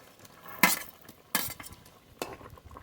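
Pieces of fried tilapia go into a simmering fish curry, heard as a few distinct clinks and soft splashes against the pot over a low background bubble.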